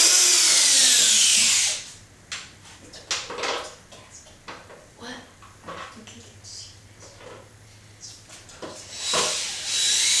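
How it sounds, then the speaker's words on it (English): A power screwdriver whirs loudly in one short burst, backing screws out of a board on a push lawn mower being turned into a go-kart. Speech and light handling noises follow, with a brief whir again near the end. "you'll get your screwdriver and unscrew these two holes."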